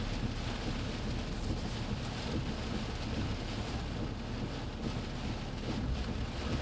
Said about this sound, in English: So we're getting some pretty good gust here.